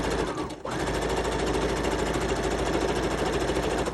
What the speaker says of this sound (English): just because my sewing machine tends to bunch it